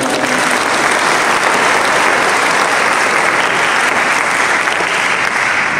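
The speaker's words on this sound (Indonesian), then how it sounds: "kalau yang penyanyi langsung tepuk tangan dulu gitu" A school crowd of students and staff at a Christmas and New Year celebration claps steadily and loudly, a dense, continuous wash of applause with no break.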